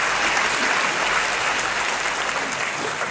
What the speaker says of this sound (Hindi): एक बार तालियां बजा करके माहौल देखिएगा।